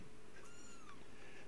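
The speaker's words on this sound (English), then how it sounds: "If you hear kittens in the background, we just have baby kittens." Baby kittens meow softly in the background, two or three thin, high rising calls, faint and distant in an otherwise quiet room.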